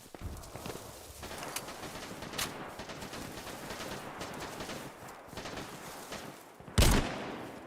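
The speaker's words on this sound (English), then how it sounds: "I feel like somebody else was shooting at me too." Gunfire in the survival game DayZ crackles through a busy outdoor soundscape, scattered shots and footstep-like thuds throughout, with one loud, sharp burst standing out near the end.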